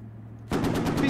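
A burst of rapid automatic machine gun fire from the Squad military shooter game erupts loud and close after a low idling hum, the rattling shots continuing to the end.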